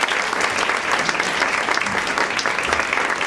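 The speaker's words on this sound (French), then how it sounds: "Je vais leur demander de venir sur scène, si possible, sous un tonnerre d'applaudissements." Sustained audience applause at an evening stage event as guests are called up, a dense, even wash of clapping from a crowd with no speech over it.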